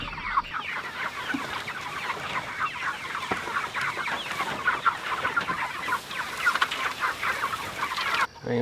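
Farm chickens cluck and chatter continuously at moderate distance, a busy layered flock sound with no one speaking.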